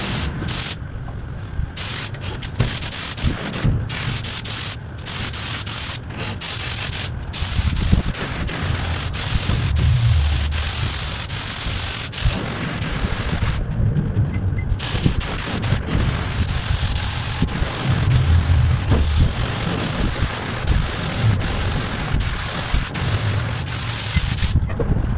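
A spray gun lays clear coat on a 1977 Pontiac Trans Am, a steady loud hiss of atomized paint with brief pauses between passes, heard alone and up close.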